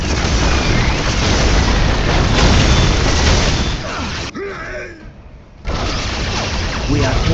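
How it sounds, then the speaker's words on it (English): Battlefield explosions from incoming enemy fire in Dawn of War Dark Crusade, a loud, sustained roar of booms and bursts that drops away briefly near the end before resuming, with voices heard over it. "Incoming enemy fire."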